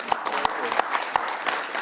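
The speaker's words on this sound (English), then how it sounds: "Give them a round of applause, please." A round of applause at a Geneva Health Week side event: a room full of hands clapping steadily, with a few sharper claps standing out close by, and faint voices underneath.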